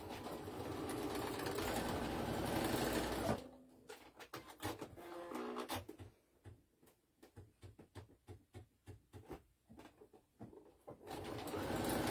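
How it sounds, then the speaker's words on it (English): A sewing machine stitches a black breastfeeding bra, its needle chattering in short bursts and pauses after a steady opening run, close and fairly loud with no talk. "now we're going to sew that down."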